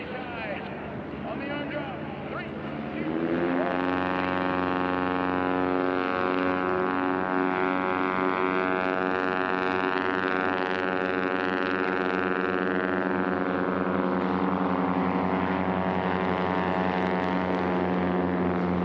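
The engine and propeller of an American Legend Cub with a reversible pitch propeller drone loudly during a STOL drag race, a steady harmonic hum that swells into a strong sustained roar at full power.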